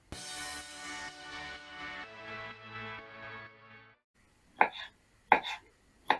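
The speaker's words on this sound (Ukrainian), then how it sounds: "Всі складові солянки нарізаю соломкою." After a stretch of sustained tonal background sound, a knife slices soup ingredients into strips on a board three times, spaced about a second apart, close and crisp.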